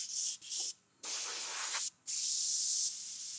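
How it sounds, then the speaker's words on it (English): An airbrush sprays paint in short stippling bursts, a close, steady hiss broken by two brief pauses. "Coming out a little bit with my airbrush, still carrying on that stippling action."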